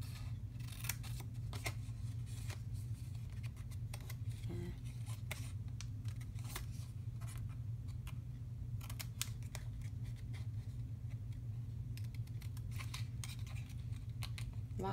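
Scissors snip out a piece of card for a shaker card, a series of crisp close cutting clicks in irregular bursts over a low steady background hum, no speech.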